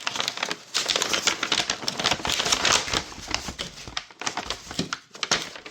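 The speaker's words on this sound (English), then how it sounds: "Let's see if we can get this out of the bag." The plastic bag of a GM flex fuel sensor crinkles and rustles up close as it is opened with scissors and handled, with irregular crackling bursts and brief pauses.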